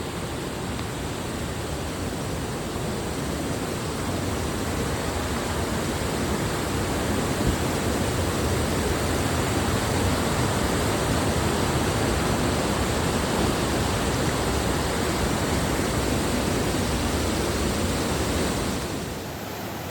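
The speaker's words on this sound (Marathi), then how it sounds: "इथल्या पाण्याचा प्रवाह भयानक आहे" Loud, continuous roar of a rain-swollen stream near Kalu Waterfall, a powerful current churning steadily without pause, close and overwhelming, with no voices.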